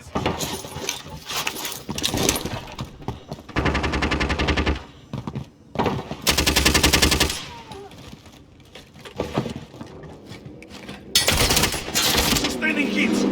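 Repeated bursts of loud automatic gunfire in a shooter video game, several sustained volleys broken by quieter gaps with faint game sounds and voice callouts.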